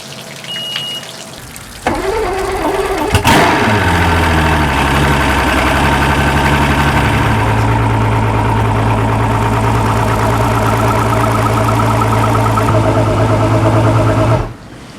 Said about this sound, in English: I'm going to start this engine and let it run for 2 or 3 minutes.